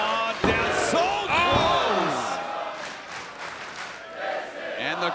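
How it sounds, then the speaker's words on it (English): Wrestling crowd at an ROH arena show in Windsor, Ontario, chanting in loud rhythmic unison, voices ringing out across the hall with a live, roomy echo. "the crowd chanting, "This is awesome.""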